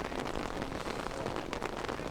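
Rain falls on an open football pitch in wet, windy weather, a steady, fairly faint broadband hiss of drops with no voices.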